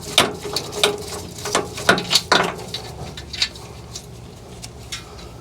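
A 14mm Mountain flex-head ratchet wrench spins out a bolt on a 2019 Toyota Sequoia rear suspension install, a series of sharp close metallic clicks in quick bursts, then fainter and sparser clicking.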